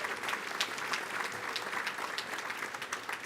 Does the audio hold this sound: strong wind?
no